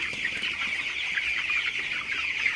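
Many broiler chickens cluck and chatter together in a busy, constant flock noise, close and fairly loud, with no talking.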